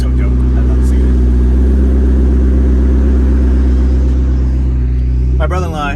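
A Lamborghini or McLaren sports car drives past at the lakeside with a steady, loud, low engine drone. Near the end a brief rising whine suggests a shift or rev.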